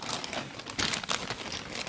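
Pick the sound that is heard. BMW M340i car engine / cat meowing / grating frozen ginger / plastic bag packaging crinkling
plastic bag packaging crinkling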